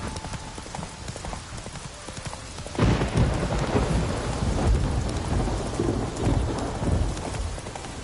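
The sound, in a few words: rain and thunder in video game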